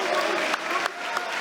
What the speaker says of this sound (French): Applaudissements pour les deux combattants.